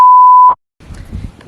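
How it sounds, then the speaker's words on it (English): A door access reader gives one loud, steady electronic beep lasting about half a second as a phone is tapped against it, followed by a short silence and then faint low handling rustle. "The phone, you tap, bam, now the door is open."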